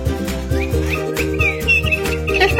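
A whistling cat toy sounds in a home, giving short rising chirpy whistles in an irregular series over a loud looping electronic tune.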